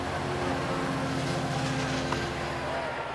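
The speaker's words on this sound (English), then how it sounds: "Boy, that is a nice looking train." A passenger train rolls steadily past a ballpark in Anaheim on its way toward Los Angeles, a continuous low rumble with tonal hum holding constant through the short stretch, fairly near and without pause.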